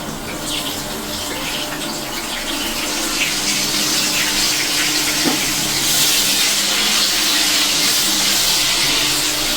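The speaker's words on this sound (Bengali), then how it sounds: "খুবই সুন্দর করে লাল লাল করে কিন্তু এই আলুগুলোকে আমি ভেজে উঠাবো।" Potato pieces frying in plenty of hot oil left over from frying tangra fish, giving a loud continuous hiss and sizzle that swells slightly midway with no talking.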